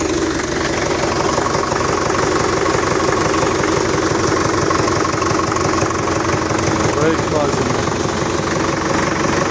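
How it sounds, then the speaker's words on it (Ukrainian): A YuMZ-6 tractor engine chugs steadily throughout, a loud, close, rhythmic diesel knock with a continuous low rumble and no pauses. "А це трактор"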